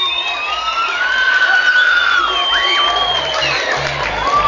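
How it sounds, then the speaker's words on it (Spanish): A crowd at a beach-season queen pageant cheers and shouts loudly for a candidate, with excited voices and whoops in a continuous wash. "Un fuerte aplauso, a ver que se escuche."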